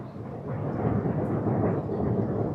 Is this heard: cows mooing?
no